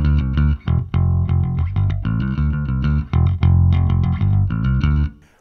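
An unprocessed bass guitar with no effects plays a busy, rhythmic riff, close and full, notes running continuously before ringing out at the end.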